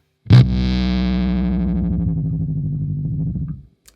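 A small magnet is held near electric guitar pickups, producing a single sharp attack followed by a thick, wobbling, heavily fuzzed tone that sustains loudly for about three seconds, then cuts off abruptly.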